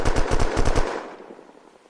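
Automatic gunfire rattles in a rapid burst of about eight close, loud shots during a raid on an underwater base in the video game Unturned on a modded server. The burst ends and trails off into a fading echo.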